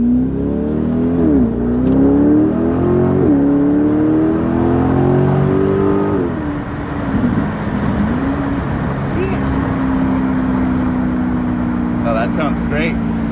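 C8 Corvette with a Lemans center exhaust, heard from inside the car as the engine revs and climbs, then drops through several downshifts with rising blips and a deep, steady burble; voices talk over it at times.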